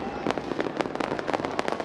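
Dense crackling bursts of New Year fireworks over Jakarta's Bundaran HI and Monas, many sharp pops and cracks in quick irregular succession at moderate distance, with no voices.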